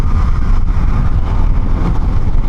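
A Honda Hornet 750 motorcycle engine drones steadily while riding on a highway, loud and continuous, blended with heavy wind buffeting across the microphone.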